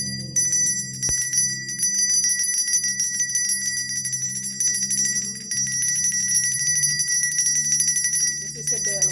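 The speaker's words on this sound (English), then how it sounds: "This is a bell. We ring the bell for them when you call them." A bell rung to call the ancestors during a Gede Day observance, a continuous bright, rapid ringing close by over a low hum, with faint talk in the background.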